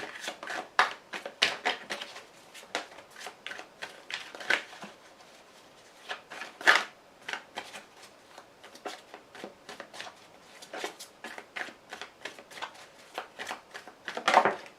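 Tarot cards are shuffled by hand, close up, with repeated soft riffling and slapping bursts in an uneven rhythm, with no talking.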